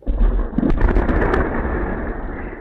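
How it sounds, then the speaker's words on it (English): A deep, booming explosion at a Russian military airbase, captured on a security camera, rumbles loudly and rolls on for a couple of seconds with no voices. "An explosion at a Russian airbase."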